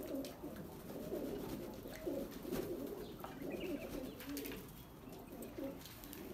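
Pigeons coo softly in repeated low, throaty phrases, fairly quiet and steady against a faint background.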